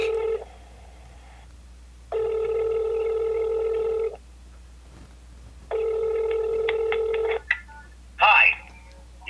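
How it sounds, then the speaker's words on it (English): A telephone rings in repeated long electronic tones with pauses between them, followed by a short click as an answering machine picks up. "It's ringing."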